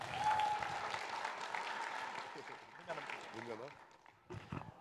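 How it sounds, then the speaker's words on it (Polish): Applause rises from a conference audience, a busy spread of clapping that thins out as voices and other room noise come through toward the end. "Wielkie brawa!"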